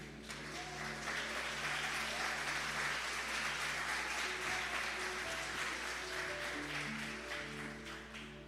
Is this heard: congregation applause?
yes